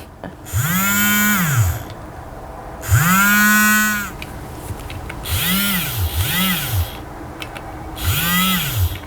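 A Wiren handheld milk frother (cappuccinator) whirs in five short bursts, its motor pitch rising and falling each time it is pressed on and released, close and loud with no talking.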